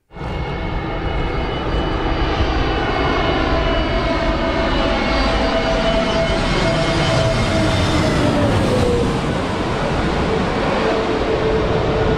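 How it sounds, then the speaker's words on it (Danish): A fixed-wing airplane near the airport on Corfu roars loudly and continuously at close range, its broadband engine noise sustained throughout, with a whining tone slowly sliding downward as the aircraft passes. "Ved lufthavnen kan man komme helt tæt på flyene."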